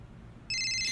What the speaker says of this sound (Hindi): अब किसका फोन है?